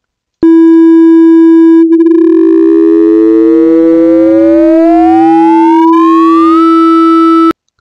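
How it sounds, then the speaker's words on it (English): A Java software synthesizer holds several steady sine tones while one sine wave sweeps smoothly upward in pitch over about five seconds, then drops back, all loud and continuous with no speech. "try increasing the frequency of one sine wave while the others are playing"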